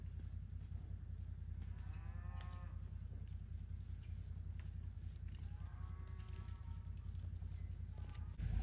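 Cattle mooing on a farm, several drawn-out low calls a few seconds apart over steady outdoor rumble, moderately distant and fairly quiet.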